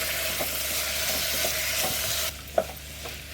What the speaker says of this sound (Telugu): ఒక మీడియం సైజ్ పొటాటో అలాగే ఒక హాఫ్ స్పూన్ అల్లం వెల్లుల్లి పేస్ట్ వేసేసి పచ్చివాసన పోయేంత వరకు ఫ్రై చేసేయండి